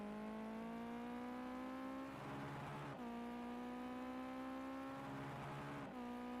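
Race car engine in Gran Turismo 5 at the Nurburgring, a loud sustained roar whose pitch steps down in repeated gear changes as the car brakes hard, shifting tones heard clearly with no voices.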